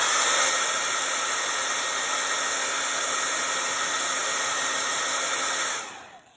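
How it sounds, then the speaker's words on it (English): A handheld blow dryer drying paint on a dragonfly painting: a loud, steady, close whooshing roar that runs unbroken, then cuts off and fades just before the end. "I'm going to make sure they're dry, blow dry them."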